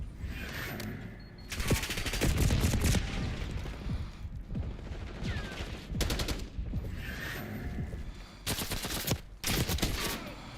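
Rapid assault rifle fire in Call of Duty, several loud sustained automatic bursts separated by brief pauses, with mechanical handling sounds between them.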